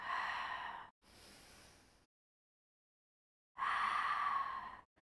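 A person exhales audibly during a foam roller exercise, with two breathy sighs close together, a pause of silence, then a longer, stronger breath out.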